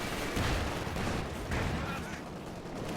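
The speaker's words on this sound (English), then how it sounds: "that's an MG42" An MG42 machine gun fires in Company of Heroes 2 in dense, loud bursts, mixed with other battle noise and without any clear pause.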